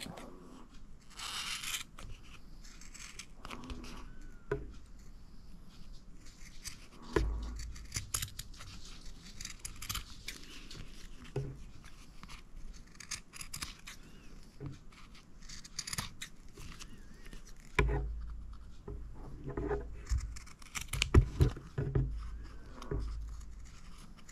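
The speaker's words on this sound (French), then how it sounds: "je vais venir découper mon tissu au ras de mon carton" Scissors cutting fabric flush along a cardboard edge while making a mini vintage book: repeated close snips and crisp slicing strokes, with rustling and handling noises between cuts over a long stretch.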